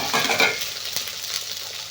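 Onions dropped into hot oil with cardamom for kurma, a brief burst of bright sizzling that settles into a quieter steady fry with a light clink of a utensil.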